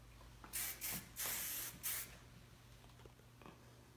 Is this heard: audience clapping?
no